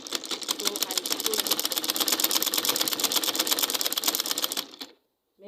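A sewing machine stitches a short gown, running in a fast steady mechanical clatter for several seconds before stopping abruptly into silence.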